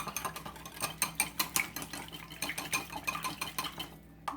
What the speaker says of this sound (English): now I'm going to give that a quick little mix